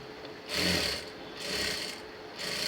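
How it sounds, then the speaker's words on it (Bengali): A sewing machine stitches the back neckline of a garment in three short bursts of whirring, close and steady, with brief pauses between runs and no talking. "প্রথমে এই পাশে একটা সেলাই দিবেন"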